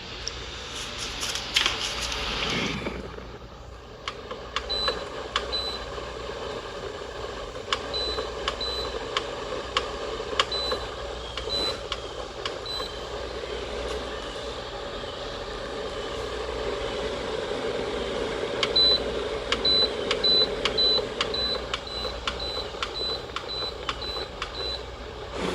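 A 2017 Keystone air cooler and humidifier emits short electronic beeps from its timer, scattered single beeps early then a quick rapid series later, over a steady fan hum.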